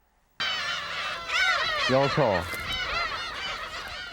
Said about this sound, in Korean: 우는 소리가 고양이 같다 해서 이름 붙여진 괭이 갈매기는 우리나라에서 1년 내내 볼 수 있는 텃새로